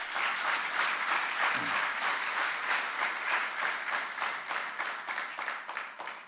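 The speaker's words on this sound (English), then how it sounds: "So let's give them a round of applause" Sustained audience applause honoring Truist at a Center for Social Justice event at a college of law, a dense, steady wash of many hands clapping for over six seconds that thins slightly toward the end.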